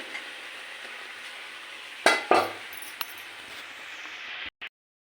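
Mushroom pieces added to a hot pan of spiced curry base, a steady sizzle with a couple of sharp clattering drops and a spoon clink, close and even before cutting off abruptly, no talking.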